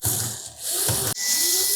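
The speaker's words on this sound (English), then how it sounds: "Then we'll remove 2 screws from either side of that support bracket." Screws being backed out of the support bracket on a Samsung dryer during drum installation, a close, loud whirring ratchet-like grind running almost continuously with one brief break midway.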